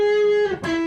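An electric guitar plays a short vocal fill line, a sustained clear note bending down into a brief slide and settling on a new pitch, close and alone.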